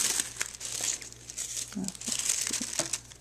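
Sheets of tissue paper rustle and crinkle close by as they are folded over into layers, a continuous soft crackling with brief sharper crunches and faint handling bumps.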